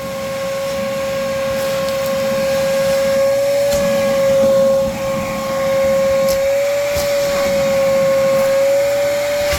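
A RIDGID 6-gallon NXT wet/dry shop vacuum runs continuously nearby, a loud whooshing airflow with a steady high whine that shifts slightly as it sucks up debris.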